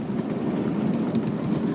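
A ride behind the White Creek Railroad's No. 84 consolidation steam locomotive: a steady, dense rumble of rolling train cars with a faint clickety-clack of wheels, continuous and close, no voices.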